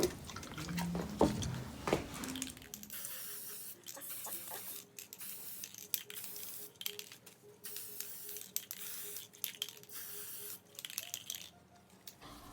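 Intermittent short hisses of spray applied onto a DIY mirrored makeup tray, repeating in bursts over a low background with a few light clicks and taps at the start.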